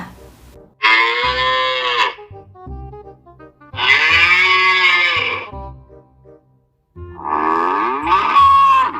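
Three long, loud cow moos, one after another with short pauses between, close and clear.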